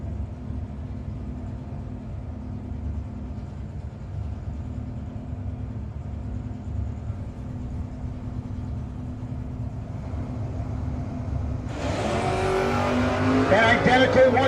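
Drag race cars, an '86 Mustang and a Nova, run side by side at a no-box 660 shootout, with a steady loud engine roar heard from a distance that swells and brightens near the end into a harsh high-pitched whine.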